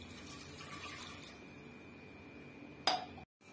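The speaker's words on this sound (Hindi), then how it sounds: "एक ग्लास पानी डालना है।" Water pours from a glass into a pressure cooker in a kitchen, a soft steady splashing stream ending in a sharp clink of glass against metal before it goes quiet.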